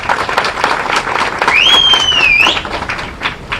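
An audience at a political public meeting claps in a dense burst of applause, fairly close and loud. A high whistle-like tone rises briefly through the middle of the clapping.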